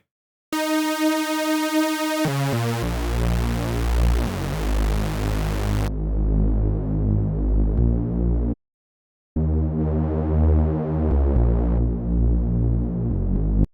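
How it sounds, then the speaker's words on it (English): A thick, wobbling progressive house synth bass with heavy unison detune drones loudly with a churning, turbulent texture, cutting out briefly before returning, with no voices. "really turbulent bass, you're gonna play around a lot with the detune"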